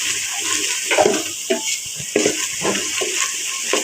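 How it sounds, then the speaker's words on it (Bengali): Onions, spices and other ingredients for kacchi biryani are stirred and fried in a pan, with a constant hiss of hot oil and scattered scraping knocks of the spoon, close and loud. "তারপরে এই সকল উপকরণগুলোকে আস্তে আস্তে নাড়তে থাকলাম যেন একটু লালচে ভাব আসে।"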